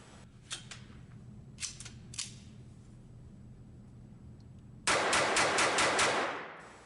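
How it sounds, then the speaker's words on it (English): An Armi Galesi Model 503-B .22 pistol fires a few scattered shots, then a quick rapid-fire burst of about six sharp cracks close by, with no talking. "My first attempt at rapid fire."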